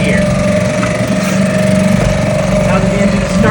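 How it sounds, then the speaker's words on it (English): A small engine runs steadily after starting, a close, even idle hum with a constant vibrating drone and no breaks. "Now that the engine is started, it's running perfectly"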